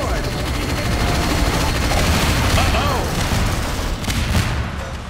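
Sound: gunfire in Half-Life video game

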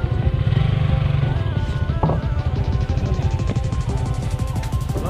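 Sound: motorcycles setting off

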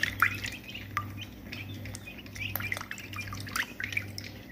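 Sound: chickens (chicks) in a coop

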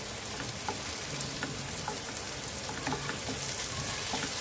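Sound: bitter gourd frying on low flame

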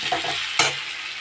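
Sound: frying eggplant (begun bhaja)

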